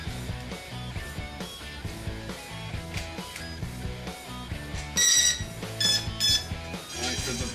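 An E-flite UMX Sbach 342 RC plane receiver beeps during binding, with short bright tones rising above a busy, continuous background bed, strongest near the end.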